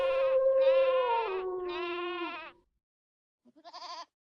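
Sheep bleat in a meadow, a long wavering call followed by a second, then a short pause and a brief shaky bleat, close and clear with no other sound.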